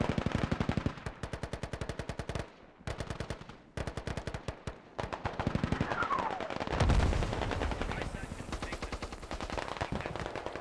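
Rapid machine gun bursts in a video game firefight, long rattling strings of shots with brief pauses, loud and close, joined by heavier blasts midway.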